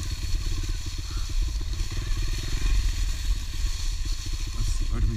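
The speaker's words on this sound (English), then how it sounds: "Enduro on a pit bike, baby." A pit bike ridden enduro-style off road, its small engine buzzing and rumbling steadily up close with rattling clatter from the bumpy terrain, continuous throughout.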